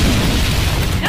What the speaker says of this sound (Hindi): गुंडे के आदमी हीरो के ऊपर बम गोलों से अटैक करते हैं